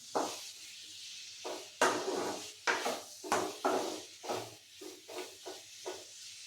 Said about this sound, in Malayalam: അതിൻ്റെ ഈ പച്ച കളറില്ലേ അതൊന്നും മാറി വരുന്നത് വരെ ഇതൊന്ന് ഇങ്ങനെ ഇളക്കി കൊടുക്കണം.